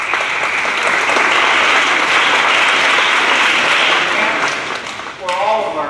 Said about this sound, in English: Let's give all of them a round of applause.